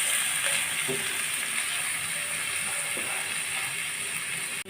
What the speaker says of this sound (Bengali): আমি এটা ভালোভাবে ভেজে নেব নেড়ে করে